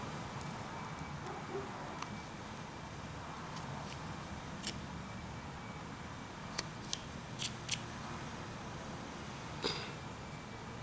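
A knife carving into a block of wood to whittle a small sailor figure makes a few short, sharp cutting snicks scattered over a low steady background hiss.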